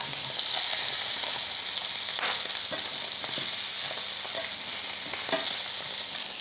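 Chicken legs fry in a pan, giving a steady close sizzle broken by several sharp crackles and pops as the pieces cook, with no talking.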